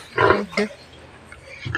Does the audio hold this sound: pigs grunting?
yes